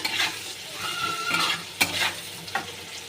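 Onions frying with a little salt in a pan, a crackling sizzle broken by several stirring scrapes and utensil knocks against the pan, close and alone with no voices.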